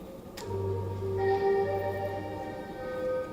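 The original melody of a hip hop beat plays alone: a few sustained synth notes stepping through a short phrase over a low, held bass tone.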